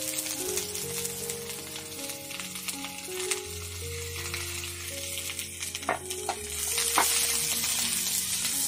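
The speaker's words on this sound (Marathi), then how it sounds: "त्याच्यात कांदा परतून घेऊ" Onion sautés in a spoonful of oil in a kadhai, a soft continuous sizzle with occasional stirring scrapes, low and steady under a background of tonal music.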